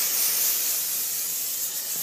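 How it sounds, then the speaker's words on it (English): A steady, close aerosol hiss of cooking spray on a chicken for grilling, continuing for a couple of seconds. "Then I spray the rest of the chicken."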